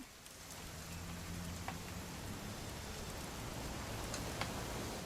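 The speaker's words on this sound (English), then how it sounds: "It's gonna rain the whole weekend, isn't it?" Steady rain falls in the video game What Remains of Edith Finch, a constant soft hiss of drops on surfaces with faint low tones underneath and a few brighter drip accents.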